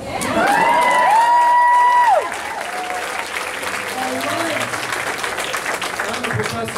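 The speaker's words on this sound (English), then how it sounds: "you can clap." At a pro-immigrant unity rally in San Jose, a crowd claps and cheers loudly, with a high sustained whoop and shouts rising over the start, then steady applause continues under scattered voices.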